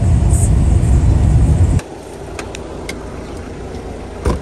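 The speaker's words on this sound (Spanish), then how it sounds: "Y ahora es momento de regresar ya para el carro, para el taxi, que siga la ruta" A taxi car drives on a road in Cuba, with a loud, close engine and road rumble that cuts off abruptly partway through, leaving quieter ambient noise with a few faint knocks.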